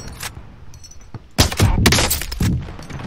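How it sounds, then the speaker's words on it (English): Gunfire in an online shooter game, a sniping match with burst-like shots and thuds that hit loud around the middle of the clip, over low background game noise. "Where the fuck am I being sniped from?"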